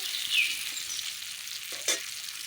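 Potatoes frying in hot mustard oil, cooked for a mutton head and meat curry. A steady close sizzle runs throughout, with a brief stir or clatter near the end.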